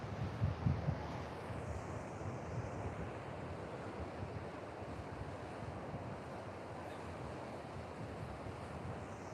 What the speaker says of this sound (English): Oh, no, still wind here.